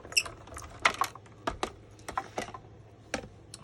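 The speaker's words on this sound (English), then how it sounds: "I'm going to grab my little mini machine, and I'm going to die cut the sailboat." A mini die cutting machine cuts a sailboat shape from card stock for a pop-up greeting card, giving a string of close, light clicks and cranking taps in an irregular rhythm.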